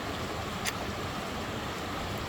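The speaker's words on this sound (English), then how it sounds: "Just hearing the water." A river flows past as a steady, broadband rush of moving water with no distinct events, fairly quiet and continuous throughout.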